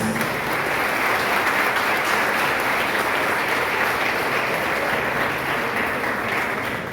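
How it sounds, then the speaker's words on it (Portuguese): A church festival crowd gives a sustained, dense round of applause for honorees, loud and even throughout with no talk over it. "A todos que estão homenageados, a nossa salva de palmas."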